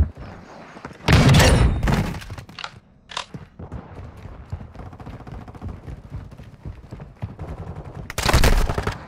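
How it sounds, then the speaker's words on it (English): Gunfire in the video game Call of Duty, with two loud bursts of automatic fire and a few sharp single shots in between, close and punchy, separated by quieter stretches of rumble. "I'm taking fire!"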